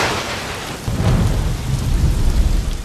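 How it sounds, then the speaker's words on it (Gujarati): Heavy downpour with thunder over Mangrol city, flooding the roads: a loud, dense roar of rain on surfaces with a deep rumble swelling after the first second, no voices. "માંગરોળ શહેર તથા આસપાસના વિસ્તારમાં ધોધમાર વરસાદ વરસતા"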